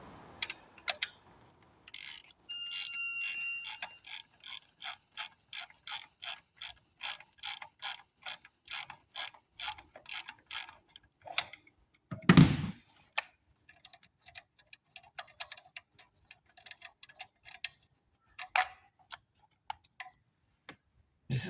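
Quick metallic clicks of a ratchet on a 27 mm socket come in fast bursts while loosening a fuel rail pressure sensor, with a brief loud clunk midway and scattered softer tool clatter, close up and free of talk.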